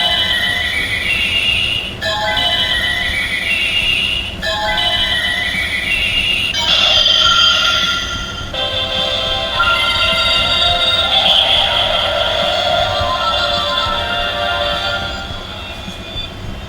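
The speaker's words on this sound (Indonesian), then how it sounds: "Sekarang kita berubah jadi Theo." A DX Ultraman Teo Crystar toy playing its transformation effect, a few rising electronic sweeps in a row followed by a longer chiming, swelling fanfare, close and loud with no talk.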